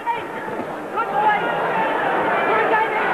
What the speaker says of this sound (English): And the crowd are enjoying it too